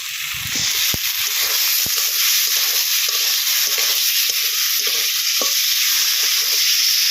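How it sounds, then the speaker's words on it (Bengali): Fried potatoes being stirred into a spice paste in a pan for a prawn curry with potato and tomato, giving a steady, close sizzle with a few scraping stirs and clinks throughout. "আলুগুলো দিয়ে এক মিনিট কষিয়ে নিয়েছি"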